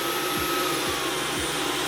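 A Dyson cordless stick vacuum cleaner runs close by with a steady, loud motor whine, broken by three evenly spaced low thumps as the head moves across the floor.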